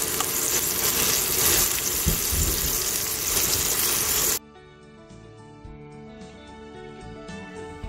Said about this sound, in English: I'm gonna cook these steaks with some garlic salt, that's all I use, in this butter